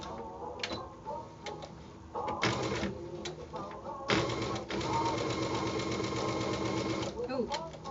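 Sewing machine stitching a zigzag seam through synthetic fabric with black bobbin thread, a steady mechanical whirr in bursts that stop and restart, with someone talking over it.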